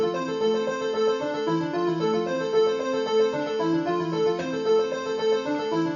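A Novation Supernova synthesizer plays a steady, repeating arpeggio through its built-in delay, the bright rhythmic notes echoing continuously at a moderate level, with no voices.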